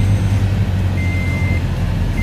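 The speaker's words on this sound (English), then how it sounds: "Start the car" A car engine idling steadily after being started, with a low, even hum and a brief high electronic tone partway through, close and continuous with no talking.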